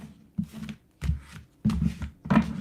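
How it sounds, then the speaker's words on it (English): An oracle card deck is shuffled by hand in several short bursts of papery riffling and tapping, close and fairly quiet, separated by brief pauses, with no talk. "let's shuffle up"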